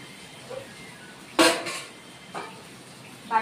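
Ground poppy seed paste going into a pan of fried green chili paste and salt while cooking aloo posto: a sharp clatter as it is added, then lighter scraping and stirring knocks over a faint low sizzle.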